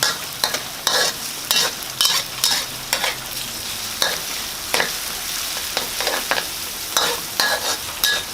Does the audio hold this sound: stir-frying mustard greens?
yes